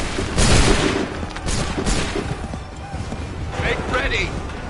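Musket volley fire in Assassin's Creed III, a burst of several loud shots early on with further scattered reports over a dense battle din, while voices shout orders throughout.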